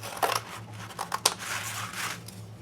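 Scissors snipping through a square of fabric or cardboard: a few short crisp cuts close by over a low steady hum, with no talking.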